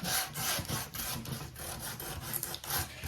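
A hand sander scrubs a salt-washed painted wooden garden sign in repeated rasping back-and-forth strokes, close and fairly quiet, with no speech.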